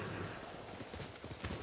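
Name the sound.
horse called in Ghost of Tsushima video game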